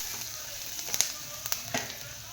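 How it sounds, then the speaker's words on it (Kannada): Masala sizzling and frying in a pan for egg curry, a steady hiss with scattered crackles and pops throughout, fairly close, with no voices. "ಸ್ವಲ್ಪ ಚೆನ್ನಾಗಿ ಫ್ರೈ ಆಗಬೇಕು."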